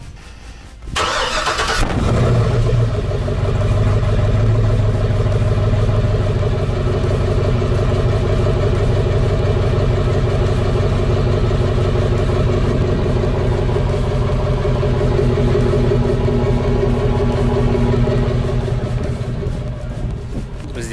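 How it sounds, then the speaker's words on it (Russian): A Hummer H2 engine cranks and catches, then settles into a loud, steady idle with a deep, rumbling exhaust note that continues without a break. "сейчас послушайте, как начинает работать выхлопная система"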